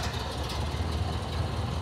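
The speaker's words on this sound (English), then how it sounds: "So if we turn it on, pull the choke up and just give it a little bit of throttle." A Model A car engine idling with the choke pulled and a touch of throttle, a steady low rumble close by, faint and unbroken.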